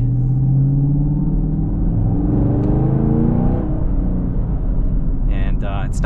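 A 2022 Chevy Camaro V8 rumbles from inside the cabin during a drive, its deep engine note rising briefly under acceleration and then settling to a steady drone.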